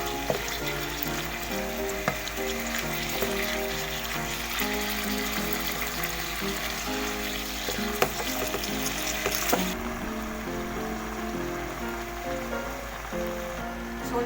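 Strips of beef for salpicao fry briskly in a hot pan, a steady close sizzle with crackling spatters and occasional stirring over a faint musical background, with no talk.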